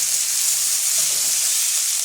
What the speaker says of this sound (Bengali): পেঁয়াজটা আমি হালকা ব্রাউন করে ভেজে নিয়েছি।